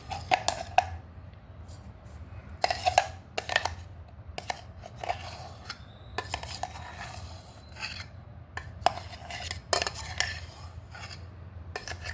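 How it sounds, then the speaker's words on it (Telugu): Mango puree for shrikhand is spooned into a bowl with repeated metallic scrapes and clinks of a spoon against the dish, close and fairly loud over a low background hum. "ప్యూరీ రెడీ అయిందండి ఇది బౌల్లోకి తీసుకొని"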